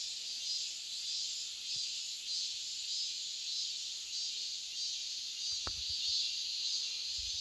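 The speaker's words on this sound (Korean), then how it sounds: "요 맴맴 하는 매미 소리" Cicadas (Hyalessa fuscata) chirp in a summer forest in a constant high-pitched buzzing drone that continues unchanged throughout, fairly faint and steady.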